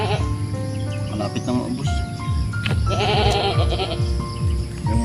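Goats bleat repeatedly in a rural yard where chickens roam, their wavering calls overlapping at close to middle distance, with a person speaking briefly over them.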